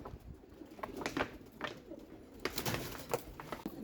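A pigeon coos softly and repeatedly up close, with faint rustling in a quiet room.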